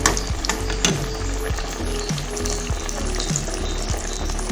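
Aloo tikki, potato patties, sizzle steadily in a hot pan, a dense continuous frying hiss with faint periodic clinks, close and fairly loud, no voices.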